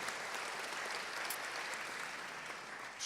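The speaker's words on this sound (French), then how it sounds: "Je pense qu'on peut applaudir." An audience at a conference on photovoltaic self-consumption and energy storage bursts into dense, steady applause that fills the room evenly for the whole stretch.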